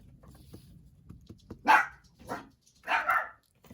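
A dog barks three times, sharp and fairly close, with short pauses between barks against a quiet background.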